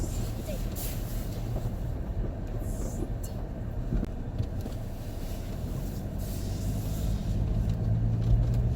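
A car drives along icy roads with a steady low rumble of engine and tyres heard from inside the cabin. People talk over the continuous road noise.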